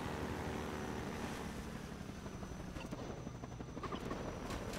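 Helicopter gunship in the Half-Life 2 water hazard level, dropping grenades, a steady rotor drone with broadband rushing noise, fairly faint and continuous, with a few sharper bursts toward the end and no talking.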